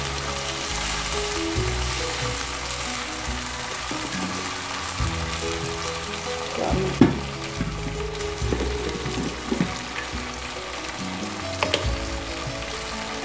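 Dried rupchanda fish curry with salt fries in a pan, a continuous sizzle with occasional scrapes and knocks as it is stirred, loud and close.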